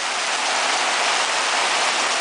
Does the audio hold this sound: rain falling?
yes